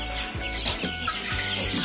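Free-range ayam kampung super chickens clucking softly while feeding in the morning, several birds nearby with repeated low clucks over a steady background.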